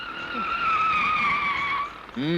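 A car driven fast with tires skidding, a long high-pitched squeal held steadily for nearly two seconds over engine noise, then a sharp swooping screech at the end.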